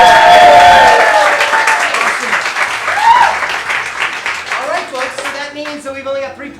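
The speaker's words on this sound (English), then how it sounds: "let's give one more round of applause to Mike and Angela and Paul" An audience at an improv comedy show in St. Pete gives a hearty round of clapping and cheering for three performers, loud at first and slowly thinning, with a voice talking over it throughout.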